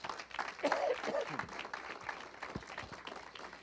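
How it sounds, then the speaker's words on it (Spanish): A church congregation breaks into a short round of applause, moderately distant and swelling then fading over a few seconds, with a voice over it in places. "Dale un aplauso de gratitud al Señor."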